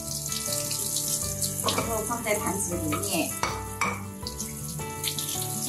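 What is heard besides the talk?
tap water running, rinsing fish in a sink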